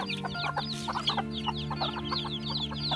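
A flock of chickens clucks busily at close range, with rapid overlapping calls and a steady low hum underneath.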